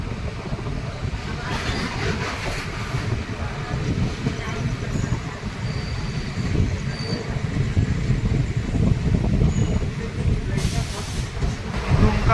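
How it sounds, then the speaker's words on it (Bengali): The Mayurakshi Express pulls slowly out of Dumka station on a hilly Jharkhand line, a steady rumble and hiss of rolling wagons that holds evenly at close range, with faint squeals now and then. "ফাইনালি ট্রেন দুমকা স্টেশন ছেড়েও ধীরে ধীরে বেরিয়ে যাচ্ছে।"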